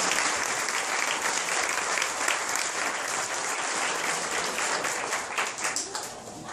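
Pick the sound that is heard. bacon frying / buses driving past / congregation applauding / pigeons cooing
congregation applauding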